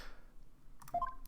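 A cell phone in Ace Attorney: Spirit of Justice gives a couple of short electronic beeps after a near-silent stretch, with a few small clicks around the tones.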